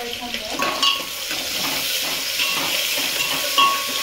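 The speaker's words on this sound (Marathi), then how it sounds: "कांदा आपल्याला चांगला गोल्डन ब्राऊन होऊ द्यायचा आहे" Onions frying with curry leaves in a pot for spicy pulao, cooking toward golden brown; a steady close sizzle with occasional utensil clinks and stirring scrapes, moderately loud.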